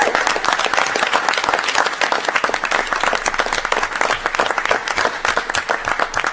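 An audience at a city council meeting claps and cheers, giving a long, continuous burst of dense, loud applause with crowd noise mixed in.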